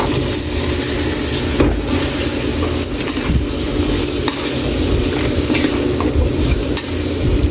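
Boiled beef being stirred into a caldereta sauce in a pan, with a constant loud sizzle and frying crackle and repeated scraping strokes of the spoon, close and without talk.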